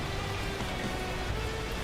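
Storm rain in the Beacon Pines video game pours down as a steady, even hiss of drops, soft and continuous for a brief moment.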